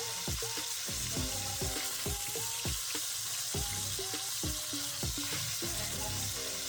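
Meat frying in a pot after sofrito is added for Dominican sancocho, a steady close sizzle with clattering stirring and scraping knocks throughout, no talking.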